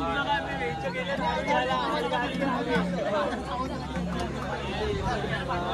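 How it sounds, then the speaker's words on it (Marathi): Dense crowd chatter fills a packed Konkan Kanya train, many voices overlapping steadily and close by with no break. "आता कोकण कन्यामध्ये गर्दी वाजली"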